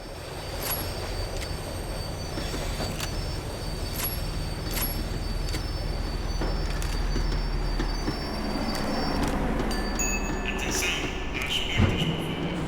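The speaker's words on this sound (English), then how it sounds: "The tram was slowing down, and I'd only just gotten on board." A tram slowing down in Max Payne 3, with loud rolling rail noise, rhythmic clicks of wheels passing track joints, and high metallic wheel squeal rising as it brakes near the end.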